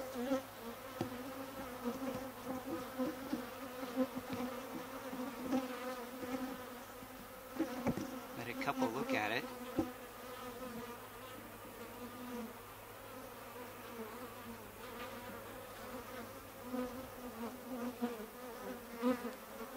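A steady, close buzzing of bees around a horizontal hive during feeding hums throughout, with wings swelling louder as insects pass near, over a low background drone.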